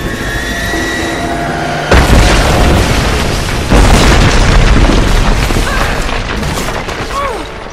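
A helicopter blows up in Rise of the Tomb Raider: a loud booming blast cuts through an engine drone, then a second heavy burst rumbles on with crackling debris and fading whistles.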